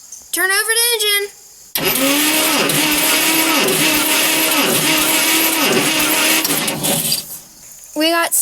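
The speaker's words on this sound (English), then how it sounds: "Turn over the engine." A 1947 Plymouth engine is cranked by its starter during a compression test, a loud, steady rhythmic churn with pulsing compression strokes lasting over five seconds, with brief voices speaking before and after.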